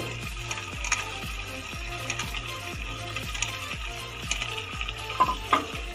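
Cubed potatoes and fenugreek leaves stirred into hot oil in a pan, with steady close sizzling and repeated scraping strokes of a spoon against the pan, then a few clinks near the end.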